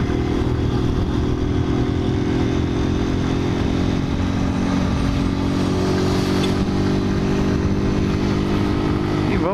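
A motor scooter being ridden on a delivery run through the south zone of São Paulo, its engine droning steadily and loudly up close for the whole stretch, with road clatter and no talk.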